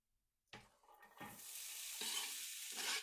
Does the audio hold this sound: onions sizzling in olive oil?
yes